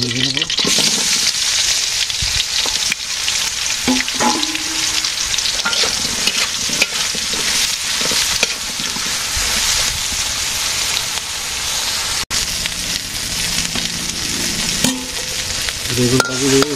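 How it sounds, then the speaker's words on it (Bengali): Eggplant fries in a pan during simple village cooking: a loud, continuous sizzle with scraping and stirring, and brief voice-like sounds surface now and then. "আমি বেগুন ভেজে নেবো।"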